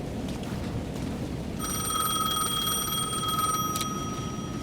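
A telephone rings inside the video game Alan Wake 2, its bright electronic bell sounding steadily for a few seconds after a quiet start, then cutting off over a low ambient background hum.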